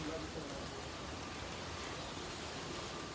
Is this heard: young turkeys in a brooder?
no